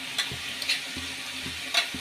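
Ground masala sizzling in a pan with capsicum, a soft steady fry under a few scraping stirs and light taps of the spoon, close and moderately quiet.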